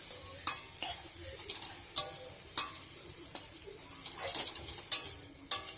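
Chow mein frying in a pan, a soft crackling sizzle broken by repeated sharp clanks and scrapes of a spatula against the metal at irregular intervals.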